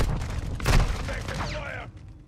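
Gunfire in Modern Warfare II, a dense burst of shots peaking near the start and trailing off, mixed with game effects and faint voice chatter underneath.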